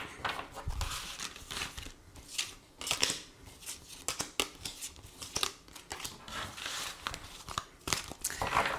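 Tarot cards being shuffled and drawn up close: a quick run of crisp riffles, flicks and soft slaps in irregular bursts, fairly quiet, with no talking.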